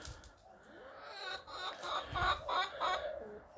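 A chicken clucks close by in a quick run of short, rising calls that grow louder toward the middle, with faint background noise.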